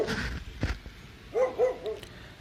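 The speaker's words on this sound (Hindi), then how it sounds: "तभी कुत्ते तेजी से भौंकने लगे।" Dogs bark in a few sharp, moderately close yelps, with a short burst near the start and a quick run of three barks later, separated by quiet gaps.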